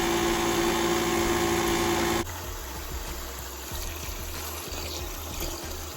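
Water pumped out of an EcoPro EPD170LGR dehumidifier gushes in a loud, steady rush that abruptly drops to a quieter, rougher flow with a low pump hum running underneath.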